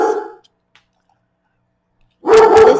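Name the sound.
dog barking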